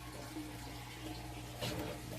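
Water flowing steadily through a hand pump tube during an aquarium water change, a faint continuous trickle and gurgle with a slightly louder splash near the end.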